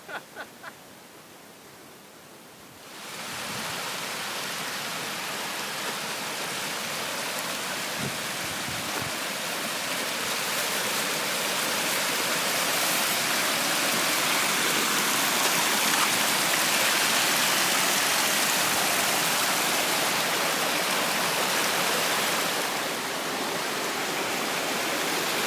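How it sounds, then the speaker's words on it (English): Small mountain creek with good late-season flow near Mt. Adams, a steady close rushing and gurgling of water that rises in and holds for most of the stretch, with no talk. "Pulled up on a little creek. Nice. Nice little creek. This late in the year, pretty good flow."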